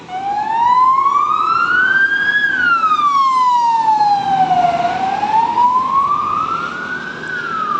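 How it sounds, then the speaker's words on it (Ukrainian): A loud ambulance siren wails nearby on an evening street in Antalya, Turkey, its pitch sweeping slowly up and down in long rising and falling cycles. "Поїхала швидка, у них це називається амбулянс."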